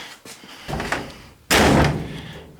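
Door of a 1959 VW single cab pickup shutting with one loud, close slam, after a few softer knocks and rattles.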